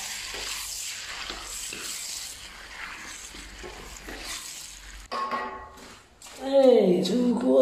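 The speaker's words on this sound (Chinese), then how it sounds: "翻炒均匀，准备出锅" Vegetables with oyster sauce and salt being stir-fried in a pan on a portable flameless cooker, a scraping, sizzling stir under talk for the first few seconds, then louder clattering and tonal whistling near the end.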